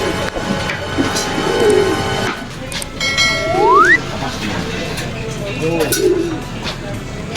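A racing pigeon coos several times in short low phrases outside its loft after a race, with a rising whistle-like tone midway and background ambience.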